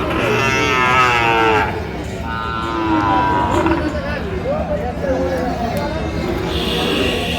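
Sahiwal cattle low at a busy livestock market in Netrokona, with loud moos rising over the steady chatter and voices of the surrounding crowd.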